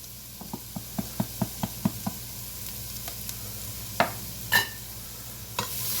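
Spices and vegetables for minestrone are stirred in a pot over a low sizzle, with a run of evenly spaced spoon taps against the rim and a few louder clanks near the end.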